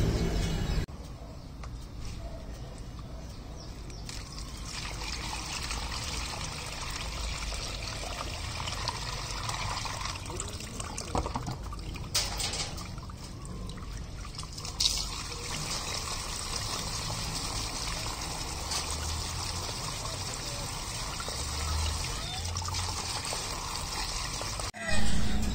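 Water holding mosquito larvae poured through a strainer, a steady trickling and splashing flow that runs continuously close by, with a few louder splashes and faint birdsong in the background.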